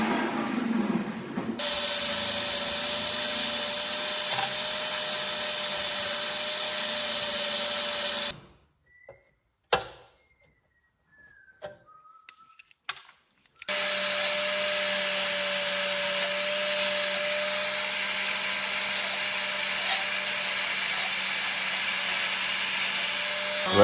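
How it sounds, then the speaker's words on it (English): A power tool grinds small bits of weld off metal with a loud, steady buzzing whine. It runs for several seconds, stops for a quiet gap with a few faint knocks, then starts again and keeps going. "I'm just going to buff them 2 wee bits of weld off"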